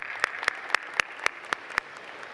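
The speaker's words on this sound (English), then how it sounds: "We want to give you a round of applause." At a commencement ceremony, a handful of sharp, evenly spaced claps land about four per second over a low room murmur, then stop.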